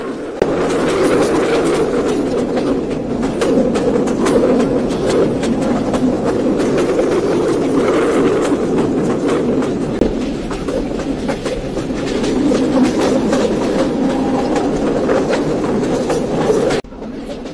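Inside a Mongla commuter train running at about 51 km/h past Bejerdanga station near Khulna, a loud, steady rumble carries rhythmic clickety-clack of wheels over rail joints for the whole stretch.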